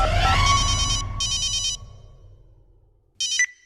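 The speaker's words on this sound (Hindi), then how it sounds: "राजा बाबू के पिताजी को फोन लगाया जाए गाजीपुर" A telephone rings during a phone-a-friend call on a Hindi TV quiz show, a near electronic ringtone in two repeated bursts with a third short burst after a pause, with no voices.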